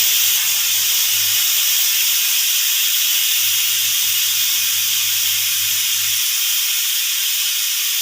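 A pressure cooker vents steam while sambar cooks, giving a loud, steady hiss that runs throughout, with a low rattling hum surging twice underneath.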